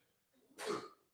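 A single short sneeze bursts out after a faint breathy intake, close to the microphone and brief in a quiet room.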